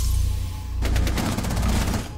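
A rapid burst of automatic gunfire in Rainbow Six Siege starts suddenly partway through and keeps going as close, evenly spaced shots over a low rumble.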